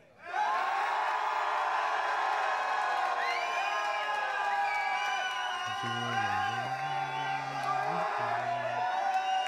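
Crowd at a club rap battle event cheering, whooping and shouting continuously, loud and close, with a sustained roar and voices rising over it throughout.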